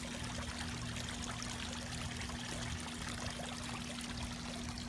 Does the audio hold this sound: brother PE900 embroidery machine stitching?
no